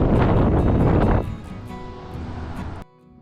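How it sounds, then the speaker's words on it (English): Strong gale-force wind at a Gulf Shores beach condo roars as a loud, steady broadband rush, heaviest in the first second, then easing to a lower sustained drone before dropping away near the end. "The wind's so rough out there. You can hear it roaring in the condo."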